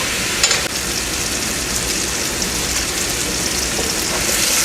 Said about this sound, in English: my onions are sauteed enough